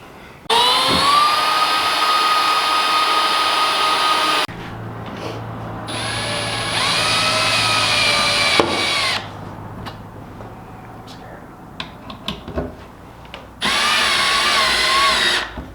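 A power drill or impact driver tightening the bolts on a Minn Kota trolling motor mount on a Triton bass boat, in several long whining bursts separated by short pauses, close and loud.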